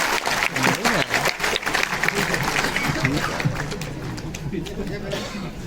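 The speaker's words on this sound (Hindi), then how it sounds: "तालियों के साथ स्वागत करिएगा।" An audience at a Hindi poetry gathering (kavi sammelan) bursts into applause to welcome a poet, dense clapping from a large crowd with some chatter mixed in, strong at first and gradually thinning.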